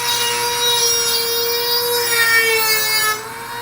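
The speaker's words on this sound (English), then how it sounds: "I was using a Dremel to try to grind down all that rust" A Dremel rotary tool grinding rust off a Trans Am, a loud, steady high-pitched whine that holds constant for about three seconds before easing off.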